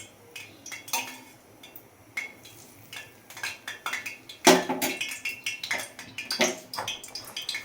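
A spoon stirs and clinks against a pot while Kashmiri chilli pickle ingredients are mixed with hot oil, giving irregular close metallic taps and scrapes that grow busier and louder partway through.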